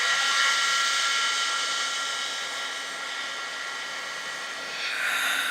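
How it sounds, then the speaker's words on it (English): An embossing heat gun blows a steady, loud whooshing roar close by as it warms up beside a card-making project, with a brief change in tone near the end. "I'll use my heat tool, and I'm going to let it heat up off to the side before I bring it over so it doesn't warp the heart too much"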